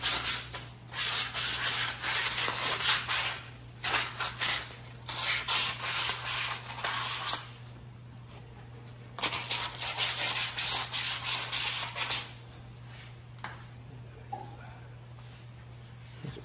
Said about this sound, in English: just kind of use some emery cloth or light sandpaper just to clean out the bore